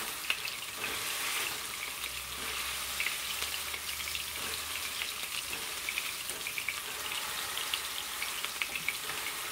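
Homemade breakfast sausages seasoned with thyme and sage sizzle steadily in a pan, a dense, even frying hiss with faint stirring scrapes and no voices.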